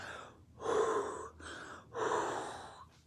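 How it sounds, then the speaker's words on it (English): Heavy, deep breathing after exertion outdoors on an island, two long loud gasping breath cycles close to the mic, separated by a brief pause. "Deep breaths."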